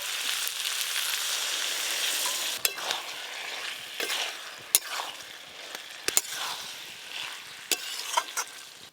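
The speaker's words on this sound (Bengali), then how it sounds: "মোচা তো অনেকক্ষণ কষা হয়ে গেছে" Banana flower with shrimp, potato and eggplant being sautéed in a pan, a steady sizzle with scattered sharp clinks and scrapes of the spatula stirring through it, close and continuous.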